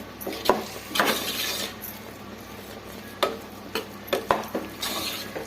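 Sweet pongal mixture mashed in a pot with a spoon: a series of soft, scraping, stirring strokes with sharper clicks against the pot, at close range and moderately loud, with no talking.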